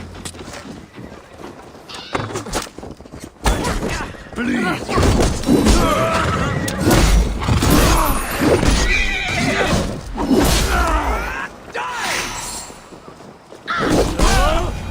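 Horses whinny and neigh repeatedly and loudly in Assassin's Creed Valhalla, with thuds of hooves and scuffling, and voices mixed in among the animal cries.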